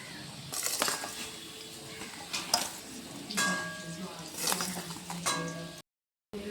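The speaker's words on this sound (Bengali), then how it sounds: "পরিমাণ মতো চিনি, লবণ আর ভাজা সবজিগুলো দিয়ে এখন এটাকে মিশিয়ে নেওয়া হবে" Rice for veg pulao being mixed in a pan with fried vegetables, sugar and salt, giving irregular scraping and clattering spoon strokes with light sizzle, close by, ending in a brief silence.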